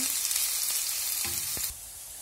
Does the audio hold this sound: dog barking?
no